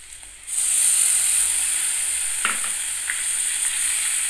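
Ground spices, ginger, tomato and green chili paste sizzle and hiss loudly in a hot pan for prawn curry, a sudden surge of frying noise that holds steady with a few soft stirring clicks.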